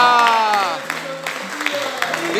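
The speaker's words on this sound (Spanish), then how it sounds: "Un fuerte aplauso." Crowd applause at an outdoor Corpus Christi celebration in Villa Nazaret, steady clapping running throughout alongside loud cheering and raised voices.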